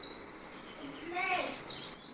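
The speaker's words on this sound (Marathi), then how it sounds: "सकाळच्या वेळेस मस्त पाखरांचा," Faint bird chirps and short calls rise briefly in a quiet village morning, heard from some distance against a soft background hiss.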